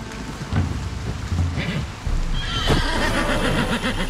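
A horse in the medieval strategy game Wartales gives a loud neigh and whinny, with hoof clip-clops and a steady rain-like hiss continuing underneath.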